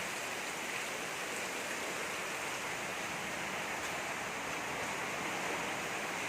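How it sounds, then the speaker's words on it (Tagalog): Strong typhoon wind at night blows as a constant, dense rushing hiss, like rain or water noise. It stays steady and fairly loud throughout, with no talk. "Lakas-lakas pa rin hangin."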